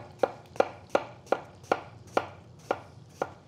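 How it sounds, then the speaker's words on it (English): Eight crisp knife strikes on a cutting board, evenly spaced, as apples are sliced for an apple galette; close and clear with no talking. "And all we're doing is slicing those apples because they're gonna get soft in this caramel."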